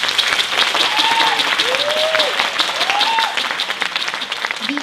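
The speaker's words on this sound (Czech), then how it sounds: "sklidili jste krásný potlesk" An audience at the KKSB 2017 knowledge competition in Paskov gives a steady, dense round of clapping that fills the room and eases off slightly toward the end, with a few brief vocal tones over it.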